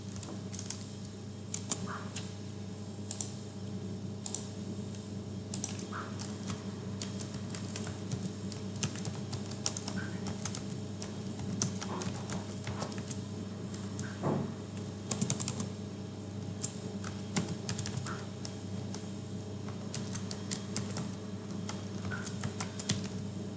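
Steady typing on a computer keyboard as an English title is entered for a web portal banner, a continuous run of close, fairly quiet key clicks over a constant electrical hum.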